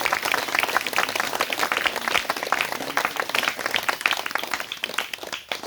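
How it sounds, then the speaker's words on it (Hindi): Church congregation clapping for Jesus Christ after a sermon, many hands clapping in a fast, dense, continuous patter at moderate loudness throughout. "सब ताली बजाएंगे यीशु मसीह के लिए"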